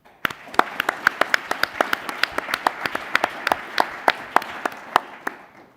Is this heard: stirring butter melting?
no